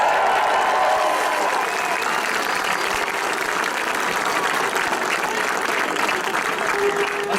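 A crowd at a Cork County intermediate football final gives a player a sustained round of applause, steady and fairly loud throughout with a faint murmur of voices mixed in.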